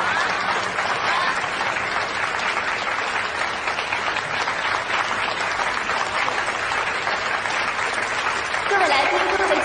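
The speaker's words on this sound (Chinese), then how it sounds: "掌声祝贺陆明集团旗下最新家居品牌 Infinite 今日正式发" At a launch event for the Infinite home furnishing brand, an audience breaks into sustained applause, a dense, even roar of clapping that carries on for nearly ten seconds.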